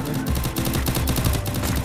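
Gunfire in the Free Fire video game on the Bermuda map, clash squad mode: rapid bursts of automatic shots in a steady rhythm, close and fairly loud, with no clear talk over them.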